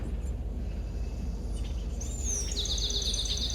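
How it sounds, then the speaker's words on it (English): Faint, high bird chirps and a short trill from birds building a nest, over a steady low outdoor rumble, fairly distant, with no talking. "my little bird friends are back"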